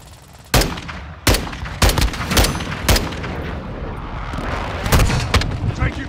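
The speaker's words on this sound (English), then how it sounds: "Friendly precision airstrike inbound." Precision airstrike explosions in Call of Duty: Modern Warfare II: a string of sharp, loud booming blasts at irregular intervals over a rumbling battlefield din, close and heavy.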